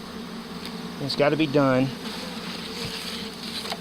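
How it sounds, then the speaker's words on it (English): A swarm of honeybees buzzes continuously in the background while someone speaks briefly over them; a dense, steady hum runs throughout. "Okay, I got some bees under my shirt."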